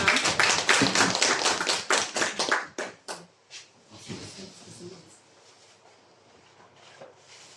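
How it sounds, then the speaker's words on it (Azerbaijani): Audience applause at a book presentation to martyrs' families in Biləsuvar, a loud burst of clapping for about three seconds that quickly fades into scattered claps and quiet room noise. "Bir alqışlarla."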